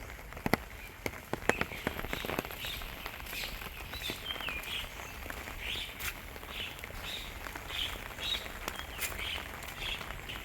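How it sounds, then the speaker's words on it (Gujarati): Heavy rain pours over a village road in Mudhasana, a steady hiss with scattered sharp drop impacts and occasional bird calls in the background, no speech. "મારા ગામમાં તો ખતરનાક વરસાદ આવી ગયો છે"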